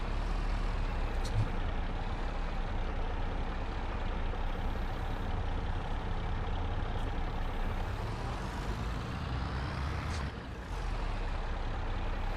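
Steady heavy truck engine drone with bursts of air-brake hiss, loud and continuous, as a truck is filled with silage on a British farm map in a farming video game.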